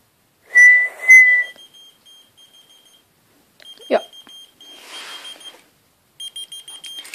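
A person whistles two short, sharp notes to set off a whistle-activated key finder. The finder answers with thin, high electronic beeps and chirps that repeat in bursts, with soft rustling between them.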